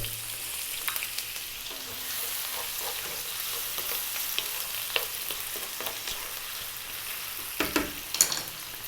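Chopped onion and potato fry in oil over high heat, giving a steady close sizzle throughout, with a few sharper spattering bursts and stirring clatters near the end. No one speaks.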